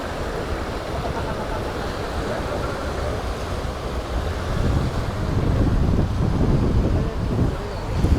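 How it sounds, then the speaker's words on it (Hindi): Strong wind roaring at the Alaknanda river confluence at Devprayag while the river runs swollen, a steady loud rush that buffets the microphone and swells in the second half. "बहुत ज़्यादा तेज़ हवा चल रही है दोस्तों, बहुत ज़्यादा तेज़, और बहुत आवाज़ है यहाँ पर"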